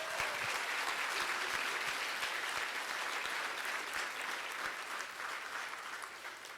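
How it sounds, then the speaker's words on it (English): Sustained audience applause for a country singer's literacy scheme event, a dense, steady wash of many hands clapping throughout, loud and even with no speech on top. "If we could have a round of applause for them,"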